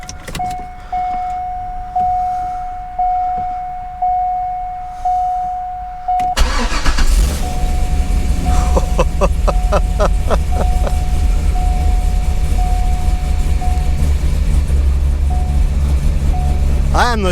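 A 2003 Corvette C5 bought from an auction, with no catalytic converters, sits with its chime beeping until the engine cranks and fires at about six seconds, then settles into a loud, rough, steady idle.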